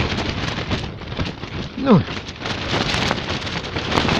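Strong wind roars across open ice at a winter fishing spot, a continuous, loud, gusting rush close to the microphone, with a brief voice speaking over it.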